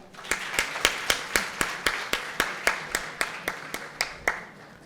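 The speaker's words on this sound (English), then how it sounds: "A round of applause, everyone." Applause at a panel discussion comes across as a single steady clapper nearby, evenly spaced claps at roughly three per second continuing throughout.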